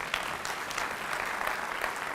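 Audience applause at a Kurdish talk or lecture, steady dense clapping from a crowd sustained throughout at moderate level with no talk over it.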